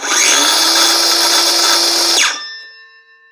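Denali 20V cordless drill from a tool kit whirs at a loud, steady pitch for about two seconds, then its brake stops it abruptly and only a faint ringing tail remains.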